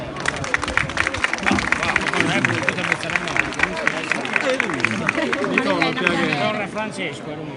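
Applause from a crowd at a Sardinian tenore singing tribute event in Bitti, steady dense clapping filling the space with murmured voices and some chatter mixed in, fading slightly toward the end.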